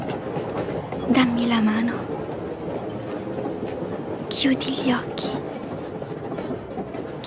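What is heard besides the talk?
train running on rails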